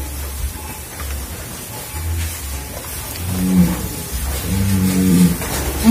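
Limousin cross cattle, young animals about five to six months old, at a cattle sale, giving two low, drawn-out bellows in the second half over steady background noise.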